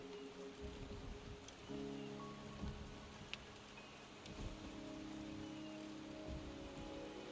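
Steady rain falls in the video game Wuthering Waves, a soft continuous patter of drops heard alone at moderate level, with low hum beneath and a few faint taps.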